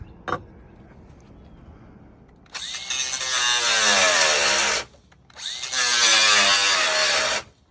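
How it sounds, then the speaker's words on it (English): A power tool, likely a drill, works on a metal boom piece for a sailboat's dinghy lift ahead of riveting, running in two loud sustained bursts after a sharp tap and quieter handling. "then we're gonna rivet the piece back on"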